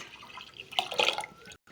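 Tamarind water poured into a pot of rasam gives a soft liquid splash and trickle that swells in the middle and stops abruptly.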